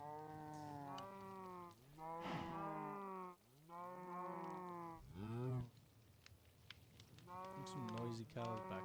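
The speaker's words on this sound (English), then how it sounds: "Some noisy cows back there." Cows mooing in the Sky Factory 5 video game, several long, drawn-out moos in quick succession with brief gaps, fairly loud and close, alongside faint game sounds.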